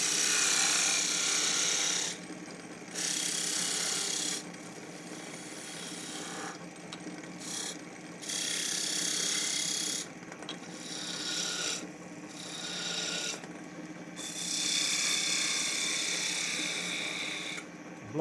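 Skew chisel taking peeling cuts on a wooden table leg spinning on a lathe, a steady close rasping shave in bursts of a few seconds separated by short pauses, with no talking.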